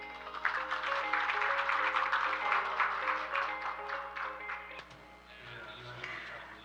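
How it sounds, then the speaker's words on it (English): Conference audience applauding a guest invited to the stage, a broad steady wash of many hands clapping that thins out and fades near the end, with a low hum underneath. "let's welcome him with a big round of applause"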